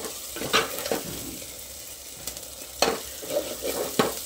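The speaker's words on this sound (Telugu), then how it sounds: "సిమ్లోనే పెట్టి వేగించుకోవాలి" Pieces seasoned with salt and chili powder fry in plenty of oil over a low flame, giving a soft steady sizzle broken by a few sharp scrapes as a utensil stirs the pan.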